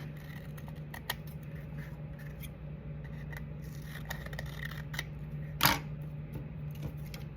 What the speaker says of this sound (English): I'm just going to take a scissors and cut a little bit of that off.